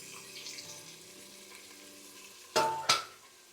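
Sliced small onions frying in a pan, a low steady sizzle followed by two sharp scraping stirs of a spoon near the end.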